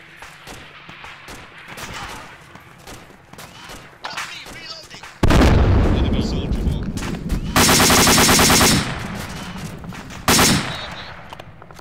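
Rapid gunfire crackles, then several huge, loud booming bomb blasts erupt and roar in quick succession, heavy explosions in the video game Arma II.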